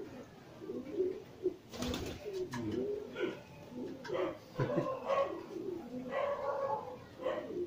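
Racing pigeons coo in soft, repeated throaty bursts close by, with occasional flapping and faint shuffling noises between the calls.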